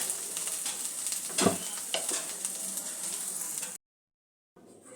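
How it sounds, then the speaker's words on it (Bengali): Potatoes fry with spices in a pan while being stirred, a steady close sizzle with scraping stir strokes, cut by a brief silent gap before the frying resumes. "দু তিন মিনিট নাড়াচাড়া করে দেবো সমস্ত মশলাটা দিয়ে"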